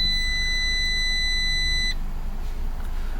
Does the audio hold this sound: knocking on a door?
no